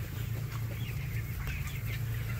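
Chickens cluck inside a poultry coop during an extremely hot midday, a dense layer of soft overlapping clucks over a constant low fan-like hum.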